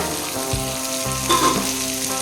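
Green chili tossed into onions frying in oil for South Indian tomato rice, heard as a steady loud sizzle with a few dull knocks as it lands in the pan.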